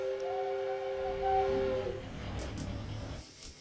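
Train in Transport Tycoon starting off: a steady two-tone whistle sounds for nearly two seconds over a low rolling rumble, then the low chugging rumble carries on alone with a few faint clicks.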